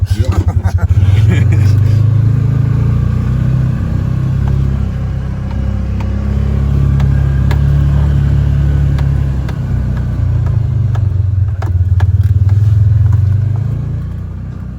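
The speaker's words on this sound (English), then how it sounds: "the tires did spin quite a bit trying to get up there" Vehicle climbing a slippery hill in rough conditions with its tires spinning, a steady loud low engine rumble and revving that holds throughout before easing off at the end.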